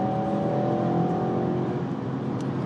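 An Audi RS6 revving hard under light throttle on the road, a loud steady engine roar with rising harmonic whine, heard from inside or close by with no talk.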